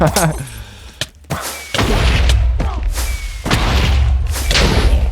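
Weapon explosions in a video game boom loudly in quick succession, heavy thuds and crashing blasts with a sustained rumbling roar between them, close and dense, drowning out everything else.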